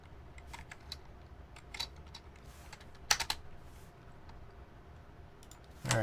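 Typing on an RGB mechanical keyboard with shine-through keycaps, a steady run of close, crisp key clicks with a few sharper bursts and a louder clack at the end.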